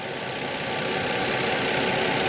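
A 2013 Nissan Xterra Pro4X with a six-speed idles steadily, heard close up as a constant, even engine hum and whir with no change in pace.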